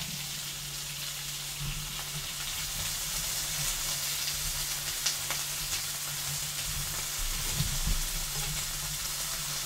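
Vegetables dropped into an oiled pan and frying, a steady close crackling sizzle with occasional louder pops and faint stirring clatter, no talking.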